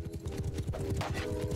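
A horse gallops in Mount and Blade Bannerlord, its hooves pounding in a fast, steady rhythm of close, loud clip-clop beats that run on without pause.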